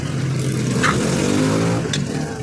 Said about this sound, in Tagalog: maraming madaan na motor na malakas yung tambutso